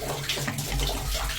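Water runs steadily out of an old-fashioned well's drain valve as the head pressure empties, a continuous close rushing and splashing with no voices.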